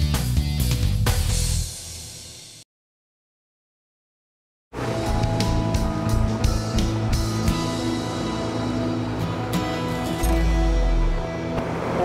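A charter boat's engine drones steadily with water and wind noise as it leaves the dock at Kaikoura, New Zealand, cutting out briefly to silence before the motor rumble resumes, close and continuous.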